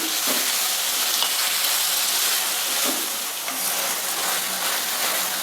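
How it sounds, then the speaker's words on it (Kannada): Chopped tomato fries in a pan over a high flame, giving a steady, loud, close sizzle with faint crackles throughout and no voices. "ಹೈ ಫ್ಲೇಮಲ್ಲೇ ಇಟ್ಕೊಂಡು ಹುರಿತಾ ಇದ್ದೀನಿ"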